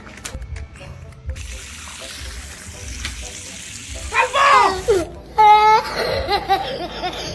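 Water gushing and splashing as it drains from a pipe, loud and uneven bursts with a rushing flow, voices and laughter mixed in around it.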